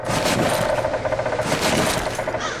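Continuous, loud gunfire in the video game Rage, a dense rattle of rapid shots that carries through the whole stretch without pause.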